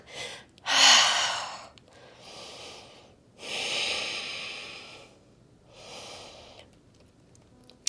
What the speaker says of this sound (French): J'inspire dans la pause et j'expire.